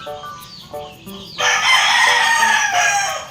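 A rooster crows loudly and close by, one long drawn-out call rising after some softer clucking at the start.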